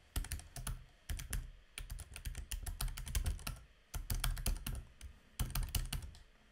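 Typing on a computer keyboard while filling in a website contact form: bursts of rapid, close key clicks with short pauses between entries, no speech.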